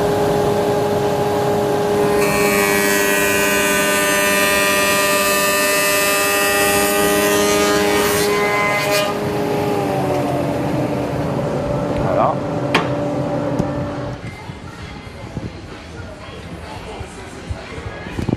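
A Kity Scheppach Bestcombi 260 combination woodworking machine runs loud and steady with a strong tonal whine, its scoring blade cutting a tenon in a burst of harsh high noise that stops midway before the motor winds down.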